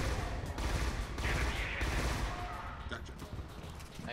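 Dense, distant-sounding gunfire and grenade blasts in the video game Scourge: Outbreak, forming a constant rumbling, crackling battle wash with no isolated close shots.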